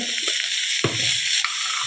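Teasel gourd and bitter gourd fry in a pan with a loud, continuous sizzle, broken by a couple of stirring scrapes, and no talking.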